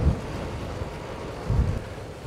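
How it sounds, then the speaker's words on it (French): Strong wind buffets a mouth-mounted GoPro microphone while cycling on a winter ride, a loud, continuous rumbling roar with heavier gusts near the start and middle. "Pas mal de vent."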